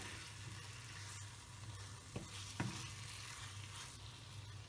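Chicken roast masala with pepper powder is stirred in a pan over a quiet, steady low sizzle, with a couple of distinct spoon scrapes midway.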